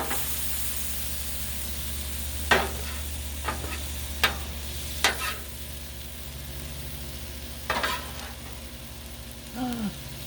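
Beef stir fry hisses on a Blackstone griddle under a low steady hum, broken by several sharp spatula scrapes and flicks at irregular intervals.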